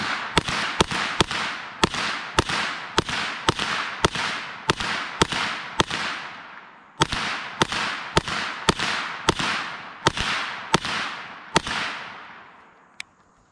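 Gunfire from a Kriss Vector or PS90 at a shooting range, a rapid series of sharp, loud cracks in two bursts of about a dozen shots each, every report followed by a ringing decay, with no talking.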